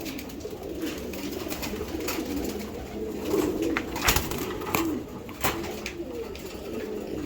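A female racing pigeon bought at auction gives low, rumbling coos in an ongoing stream, with a few sharp clicks and taps scattered over a constant background hiss.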